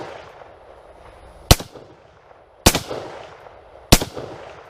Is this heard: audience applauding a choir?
no